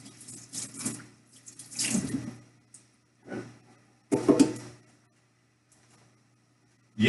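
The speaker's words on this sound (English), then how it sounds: "I'm going to wash this off." Tap water runs into a sink as a head of cabbage is washed, bursts of splashing and trickling coming and going in uneven waves, close by with no talking.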